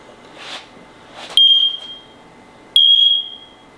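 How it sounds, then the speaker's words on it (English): Two loud, sustained high-pitched beeps from interconnected wireless smoke/CO combo detectors sound a second or so apart, each after brief clicks, in a quiet room. "they both beeped at the same time, meaning they confirmed that they're interconnected"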